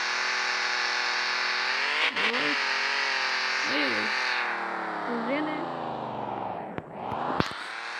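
A car in the video game The Walking Zombie 2 drives with a steady, loud engine drone that rises and falls in pitch with short revving swoops and a sharp knock near the end, while someone talks over it.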